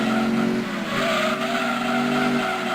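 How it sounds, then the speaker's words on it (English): A car engine in Gran Turismo 2 roars continuously while tires squeal along with it in second gear, the pitch dipping briefly before rising again; loud and close, no speech. "It was squeaking tires at freaking second gear."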